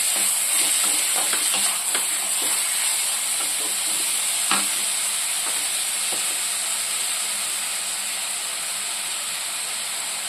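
Chopped onions and green chillies frying in a pan, a continuous bright sizzle and hiss with occasional soft stirring scrapes and taps, close and steady throughout.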